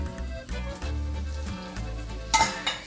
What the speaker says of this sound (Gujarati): આ બધું સાંતળવાનું ફાસ્ટ ગેસ ઉપર જ